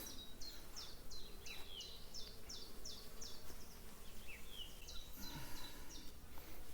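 Honeybees buzz steadily on a full pollen frame lifted from a hive, a close continuous insect hum with a few high chirps above it and no talking.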